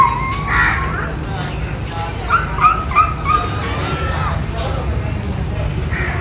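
A boy imitates a dog with his voice, giving yelping barks and whimpering cries in short bursts, close and fairly loud, over a background of crowd babble.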